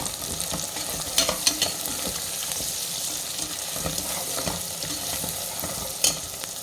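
Onions and spices sautéing in a pan for Chettinad chicken curry, with a steady close sizzle and repeated scraping stirs of a spoon, punctuated by a few sharper clinks.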